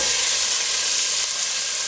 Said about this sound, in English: Then to this, I'm going to add the broccoli.